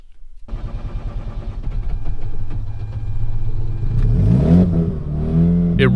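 A Mazda RX8 rotary engine, freshly revived after starting-fluid attempts, runs close by with a steady low idle, then climbs into rising revs near the end, sweeping upward loudly with no talk.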